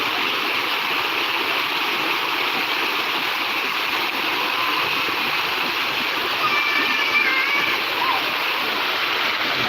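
The flooded Walana river in Soppeng, South Sulawesi, overflows its banks in a loud, unbroken rushing roar of turbulent water that holds steady throughout.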